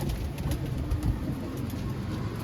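Soft, low cooing of pigeons in a coop under a constant background hum, fairly continuous and not very loud.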